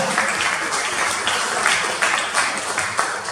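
A church congregation at an evangelical service applauds together in a dense, continuous round of clapping that rises in small surges. No one talks over it.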